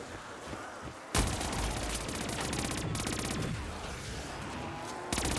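Rapid automatic gunfire in Call of Duty Zombies, loud and close, bursting in after a short lull and rattling steadily for several seconds before a brief break and a fresh burst at the end.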